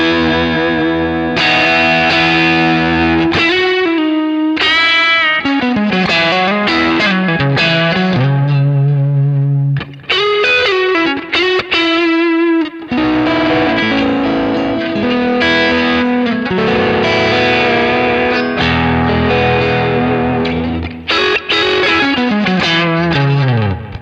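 An electric guitar played through a Kemper amp with the tube shape set to an extreme 9.2 gives a heavily distorted, saturated tone, loud and close, with chords and riffs broken by short pauses.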